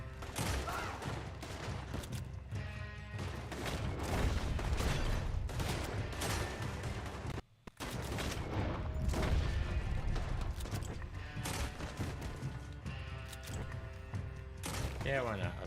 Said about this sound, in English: I'll shoot you too